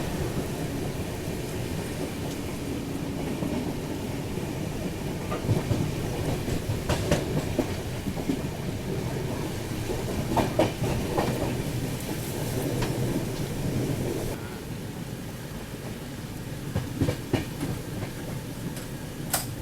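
The Vikramshila Express rolls along in heavy rain, a steady rumble and rattle of the carriage heard from onboard, with occasional clunks and a continuous wash of rain noise.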